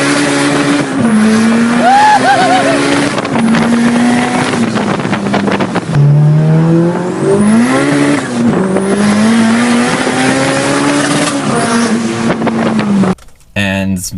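A 700 horsepower Honda S2000 driving hard, a loud, high-revving engine climbing and dropping through gears for the whole stretch, close and dominant, cutting off abruptly near the end.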